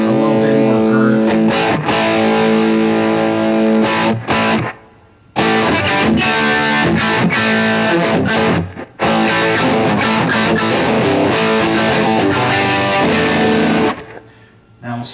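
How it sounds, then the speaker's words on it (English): Electric guitar played through an MXR Distortion+ pedal, loud and close with thick sustained distorted chords and riffs, broken by a couple of short pauses. "Now I'm going to kick in my Distortion Plus"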